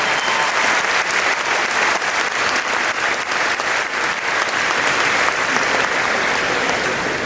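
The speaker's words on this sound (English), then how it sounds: "Let's give the students a round of applause." Dense, sustained applause from a packed concert hall audience at an elementary school district honor concert, steady and loud throughout with no pause.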